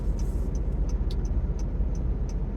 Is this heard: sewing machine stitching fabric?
no